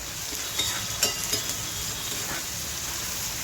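Dried bombil fish sizzling crisp in hot oil with chilli powder, a steady bright frying hiss punctuated by a few sharp pops and spatters close by.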